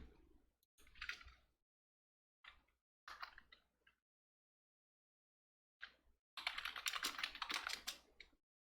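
Bursts of typing on a computer keyboard, close and quiet, with quick clusters of key clicks separated by silent pauses and a longer, denser run at the end.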